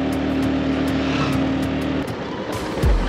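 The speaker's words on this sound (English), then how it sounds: "Bike's really struggling to get up." A motorbike engine at full throttle climbing a steep hill in North Bali, with a loud, sustained straining drone that drops in pitch about two-thirds through, recorded close with wind buffeting.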